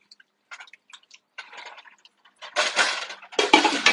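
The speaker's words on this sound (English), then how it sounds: "Give it a bit of a stir." A spoon stirs Tuscan chicken filling with garlic, tomato and onion in a pan, giving a few soft scrapes and wet clicks that build to louder sizzling, stirring bursts near the end, no talk.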